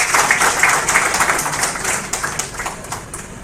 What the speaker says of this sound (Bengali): শিক্ষামন্ত্রী প্রফেসর নাট্য বসুকে আপনারা একটি করতালি দিয়ে অভিনন্দন।